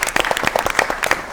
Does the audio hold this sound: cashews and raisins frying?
no